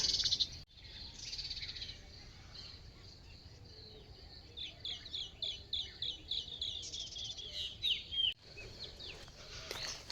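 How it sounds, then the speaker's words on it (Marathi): A sparrow chirps in a quick series of faint, bright notes around a village house with fences of trees and a lemon tree, distant and sparse over quiet outdoor background hiss. "चिमणी"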